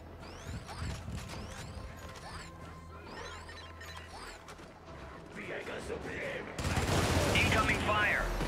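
Gunfire and crashing impacts in the video game Helldivers 2, with bursts of shots and mechanical clatter that swell into a dense, loud barrage near the end, while people talk over it.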